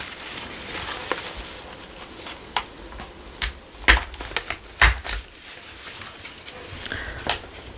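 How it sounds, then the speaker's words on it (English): Paper is stapled in a junk journal: a series of sharp, close clicks and snaps, irregular in rhythm, over a light background hiss, with no talking. "But I'm just going to staple"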